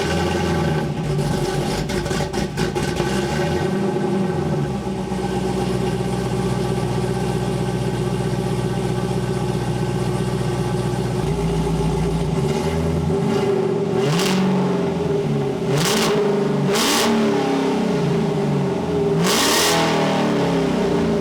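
LTX-swapped Pontiac Trans Am V8 with a cheap homemade exhaust, heard up close as the engine settles into a loud, rumbling idle, then revs sharply several times in quick bursts.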